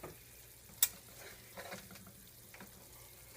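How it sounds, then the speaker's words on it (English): Flour browning in grease for a cubed steak gravy gives a faint, steady sizzle with a single sharp clink near the start and a few soft scraping stirs. "what you want to do is kind of brown or burn your flour just a little bit"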